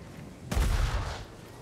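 A gun rat enemy opens fire in Vermintide 2, a sudden loud burst of gunfire with a heavy low boom that starts abruptly and fades over about a second.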